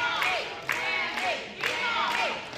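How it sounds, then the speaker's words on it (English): Crowd noise from a VIP wrestling audience, with cheering and shouts swelling in waves through a short stretch, loud and continuous. "Sam C attempting to feed off this VIP crowd"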